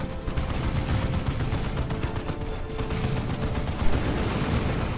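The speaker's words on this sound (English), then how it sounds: "Taking out some scouts with bolt pistol shots." Dense, continuous bolt pistol gunfire rattles through a Dawn of War 2 battle, with rapid overlapping shots and heavier bursts held at a steady loud level and one sharper bang near the end.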